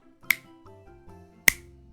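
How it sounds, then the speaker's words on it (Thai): A teacher snaps his fingers twice, two sharp, close, crisp clicks about a second apart over faint background music. "ครูดีดนิ้ว จึงทำให้เกิดเสียง"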